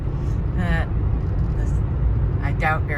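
Car driving along a road during autumn, a steady loud low engine and road rumble filling the whole stretch, with brief voice-like sounds over it.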